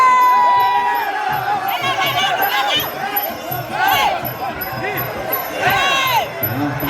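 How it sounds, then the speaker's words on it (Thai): A crowd at a Thai boxing fight cheers and shouts continuously, with rhythmic chanting and excited yells swelling in waves over several seconds, loud and close, while a commentator's voice runs over it. "โอ้เสียงเชียร์ เอาเชียร์ครับ"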